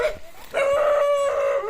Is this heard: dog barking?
yes